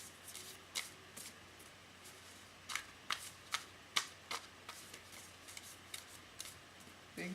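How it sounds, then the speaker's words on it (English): Tarot cards are shuffled close by in a run of crisp, uneven flicks and riffles, with short pauses between them. "get these nice and shuffled up here"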